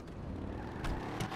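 Engine of the Duke O'Death car in a video game turning over and starting, a low rumbling drone with two brief surges, close and alone.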